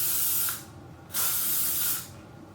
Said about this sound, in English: I take my L'Oreal Paris Satin. This is the hairspray in Strong Hold.